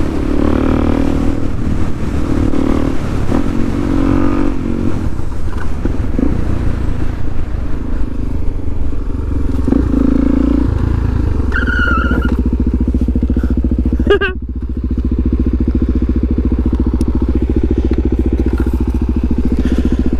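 A motorcycle engine runs loud and close throughout a ride, a steady rumbling drone with slight rises in revs, a brief dip midway and some wind buffeting.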